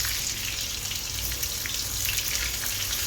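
Half an onion sizzles and fries in hot oil in a pan, a steady dense crackling hiss that stays even and close throughout, with no speech.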